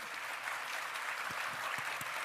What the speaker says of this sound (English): give them a strong applause